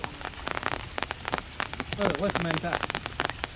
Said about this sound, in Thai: ต้องกลับที่พักแต่ฝนตกไม่เลิกเลย